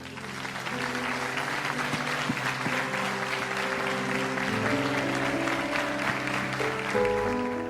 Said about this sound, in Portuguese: Nós podem aplaudir ao Senhor